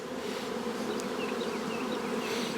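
Caucasian honey bees buzz at an open hive in a beeyard, a steady, close, droning hum of many insects with no voices over it.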